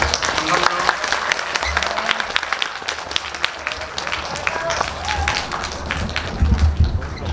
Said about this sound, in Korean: 두 분 보내드리면서 큰 박수로 보내도록 하겠습니다.